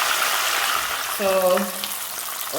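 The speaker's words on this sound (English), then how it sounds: "our fish is finished frying because we fried it" Snapper fries in hot oil for Jamaican escovitch, a steady hiss and crackle of sizzling throughout, with a brief voice breaking in midway.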